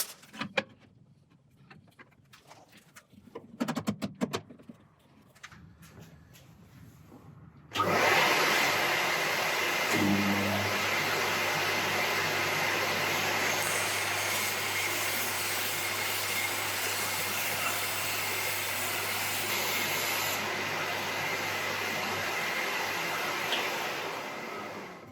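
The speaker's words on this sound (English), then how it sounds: "The bandsaw certainly didn't slow down at all." Record Power Sabre 300 bandsaw cutting a 53 mm thick piece of dried oak, with a few handling knocks first, then a loud steady whirring drone with rising and falling cutting noise that holds unbroken for about fifteen seconds.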